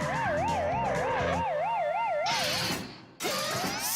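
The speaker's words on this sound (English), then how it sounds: "the alarm goes off, making the siren howl and the light flash" A cartoon security alarm's warbling electronic siren wails up and down in a steady rapid cycle, then cuts off and returns briefly with a sharp rising blast.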